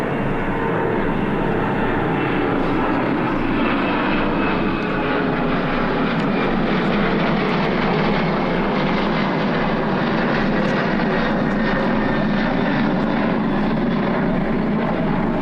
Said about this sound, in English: I hope we will finish before another plane.